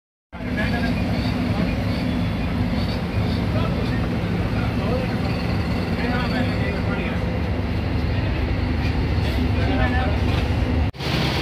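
Inside a moving intercity business-class bus travelling from DG Khan to Lahore, a steady loud engine and road rumble fills the cabin throughout, with faint murmur of voices under it and a brief thump near the end.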